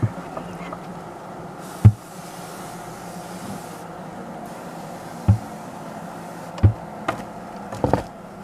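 Honeybees buzz in a continuous low hum around an opened hive frame on a hot, overcast day. The hum is steady and moderate, broken by occasional sharp knocks and clicks from handling the frame.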